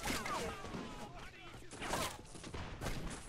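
Cannon and musket fire from a 1709 Russian forest outpost battle in the Corsairs Magic Storm mod, loud and continuous, with dense overlapping blasts and crashes over a constant din.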